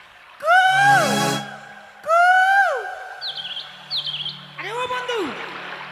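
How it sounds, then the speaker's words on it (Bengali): A koel's calls ring out clearly, several loud rising-and-falling whistled phrases repeated in sequence, followed by softer high chirps near the end. "ওই যে ওপার থেকে কোকিল যাচ্ছে"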